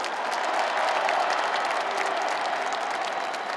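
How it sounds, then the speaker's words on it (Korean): A large crowd at a Democratic Party presidential candidate selection convention applauds Choi Sung with a dense, sustained roar of clapping, evenly loud and crowd-filled throughout. "최성 동지에게도 뜨거운 박수 보내주십시오"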